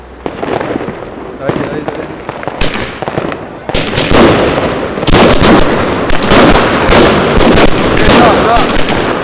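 New Year's fireworks exploding over Split, Croatia, a loud rapid barrage of sharp cracks and booms that grows denser and continuous, with people talking nearby.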